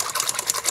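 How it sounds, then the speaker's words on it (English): A whisk beats batter with added milk in quick, even strokes, giving a rapid rhythmic whirring close by with no talking. "Now we'll mix it. We have whisk."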